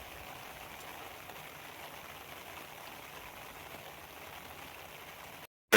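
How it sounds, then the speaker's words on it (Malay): Even, continuous rain hiss from start to finish, fairly soft, with no voices, ending in a sudden cutoff. "Hujan guys. Hujan."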